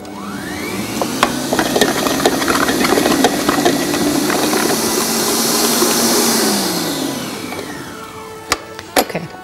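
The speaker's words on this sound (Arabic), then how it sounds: "وهنبتدي نضربها تاني مع الزبدة والسكر" An electric mixer beats strawberry cupcake frosting made with butter and sugar, a steady whirring motor hum with a rising and falling pitch as it starts and slows, followed by a few clinks at the end.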